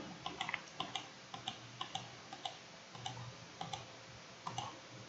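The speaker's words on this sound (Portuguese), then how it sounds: "Eu começo então a clicar aqui e desenhar a linha." Light, quiet computer mouse clicks come in an irregular series, roughly a dozen sharp ticks over a few seconds, while a line is drawn point by point in the QGIS mapping software, with no talking.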